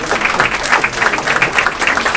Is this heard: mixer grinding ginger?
no